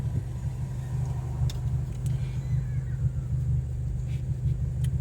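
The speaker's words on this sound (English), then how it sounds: "make some cool turbo sounds" Turbocharged car, a Ford Focus RS or Subaru WRX with full bolt-ons, cruising with a steady low engine rumble and drone from inside, fairly quiet and even, with a few faint higher whooshes and clicks on top.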